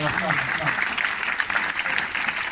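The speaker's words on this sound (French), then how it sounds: "Acclame très fort." A church congregation at a Sunday service applauds, a dense, even wash of clapping from many hands that carries on throughout, with a few voices rising briefly near the start.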